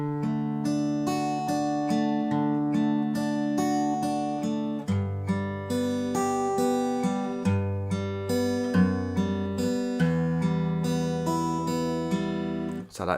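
Fingerstyle acoustic guitar plays the verse pattern of a song, a steady picked arpeggio with a repeating bass note under ringing higher strings, close and clear with no voice.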